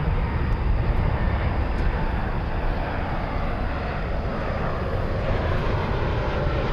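Steady broadband jet roar of an American Airlines Boeing 737 Max 8 landing on runway 18 right at DFW Airport, loud and continuous throughout with no voices.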